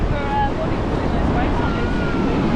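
Ocean surf rolls steadily onto a huge, seemingly endless beach in New Zealand's Coromandel, a continuous broadband wash with wind buffeting the microphone and no pauses.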